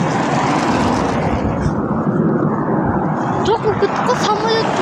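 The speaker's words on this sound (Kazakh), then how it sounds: "самолет кетті" An airplane passes overhead as a broad, steady roar that fills the background while people talk nearby.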